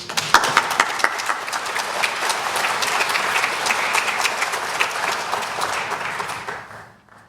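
Warm audience applause greets Dr. Leo Roos, a Holocaust survivor, as he takes the stage at a San Diego talk; steady, dense clapping from a large crowd holds for about seven seconds, then fades away.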